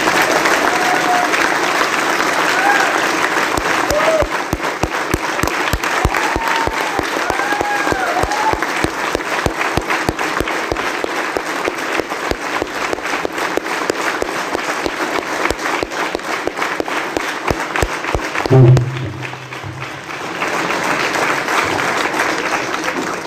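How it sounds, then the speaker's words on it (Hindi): Sustained applause from an audience at a network-marketing business seminar, dense and steady for over twenty seconds, with a brief thump and dip near the end before the clapping carries on. "चले तालियां थोड़ी कंटिन्यू"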